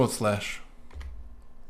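A computer keyboard gives a couple of quick, close key clicks just after a short burst of talking, during website editing in Dreamweaver.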